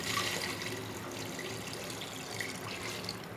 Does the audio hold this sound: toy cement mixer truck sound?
no